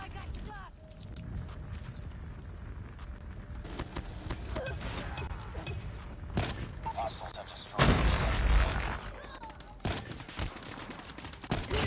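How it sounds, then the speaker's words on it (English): Automatic sentry gun fire in the mobile shooter Call of Duty Mobile, sustained rapid bursts mixed with other gunfire and booms during a hectic match, with a player talking over it. "Sentry gun."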